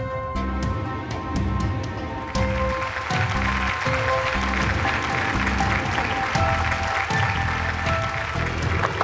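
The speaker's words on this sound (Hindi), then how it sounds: "अपनी तालियां बचा के रखिए" Steady audience applause fills the room at a stage event, with music and rhythmic thumping running underneath it throughout.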